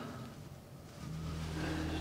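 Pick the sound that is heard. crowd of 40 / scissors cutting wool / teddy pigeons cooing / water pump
water pump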